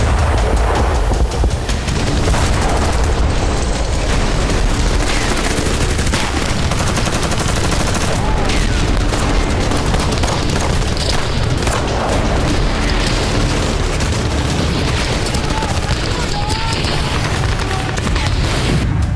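Booming explosions and bursts of gunfire from Russia-Ukraine war footage, loud and continuous, with heavy blasts and rattling shots overlapping throughout.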